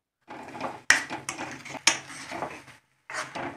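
A spoon scrapes and clinks against a kadhai while sugar is stirred into carrot halwa, giving close, irregular metallic strokes with sharp knocks and short pauses.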